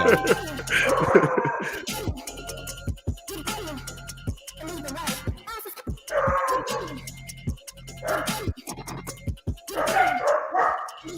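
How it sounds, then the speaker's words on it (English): Several dogs bark in repeated bursts in the background while customers are being served, with intermittent yips and whimpers between louder volleys and some talk mixed in. "We got dogs barking in the background."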